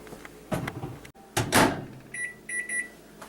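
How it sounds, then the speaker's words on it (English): A microwave oven heating a batch of peanut brittle with extra corn syrup: a couple of door or latch thumps, then a short series of high, clear electronic beeps, close and fairly quiet in a kitchen. "Back in the microwave."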